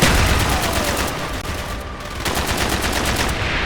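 Mortar fire in Call of Duty Black Ops: loud, dense bursts of rapid explosive gunfire with a brief dip in the middle, close and continuous.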